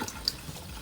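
Cold tap water runs steadily into a sink while raw chicken is washed, a soft continuous splashing heard close but fairly quiet for a brief moment.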